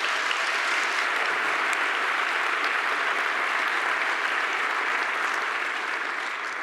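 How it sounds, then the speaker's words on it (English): A conference audience at Cascadia gives a sustained round of applause, a thick, even wash of many hands clapping that holds steady for several seconds with no speech. "so can we just get a round of applause for the other speakers?"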